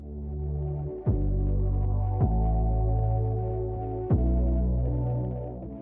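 A steady, loud mechanical hum with a low throbbing drone, holding constant with a few brief clicks, like a hood hair dryer running nearby.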